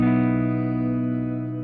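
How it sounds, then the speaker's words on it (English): Shimmer reverb on a Line 6 Pod GO guitar multi-effects unit: a sustained, dense chord wash with layered high octave harmonics, fading slowly through a long, smooth decay tail with no other sounds. "if we set that to 0, we only get the actual shimmer note"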